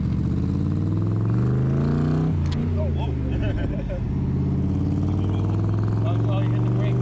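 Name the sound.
Cobra sports car being driven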